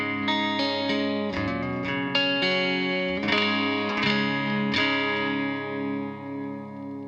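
Clean guitar patch through a BOSS MS3 feeding Line 6 DT25 and Bass Breaker amps in a dual-amp setup, several chords strummed and left to ring with a chorus-like shimmer and reverb, played alone with no talk.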